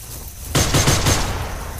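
Video-game gunfire bursts out of quiet: a rapid cluster of four or five loud shots in about half a second, then a sustained, noisy roar of battle lingering afterward with no voices.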